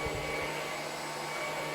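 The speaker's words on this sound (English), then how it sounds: "That is my go-to vacuum cleaner that I use every day." Upright vacuum cleaner running on its high setting with the brush on, a loud, steady roar with a constant whine, heard close and alone.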